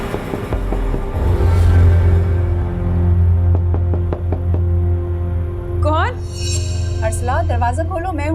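Knocks on a door in a television drama come as a quick series of sharp raps over a sustained low musical drone, followed by a voice calling out.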